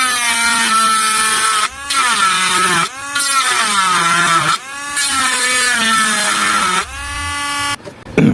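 A continuous power tool cuts a notch into the plastic body of a Dcobra M416 airsoft rifle, a loud close whine that rises and falls in pitch with brief pauses between passes.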